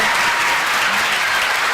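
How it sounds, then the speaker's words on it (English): Audience applause after a school holiday jazz band concert, a dense steady wash of clapping from a full crowd, loud and sustained throughout with no voices over it. "let's give them another round of applause"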